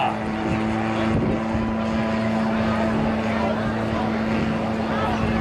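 A propeller aircraft with a pusher engine at the back drones at an airshow in Blackpool, a steady continuous engine hum over crowd ambience, with an announcer talking over it throughout.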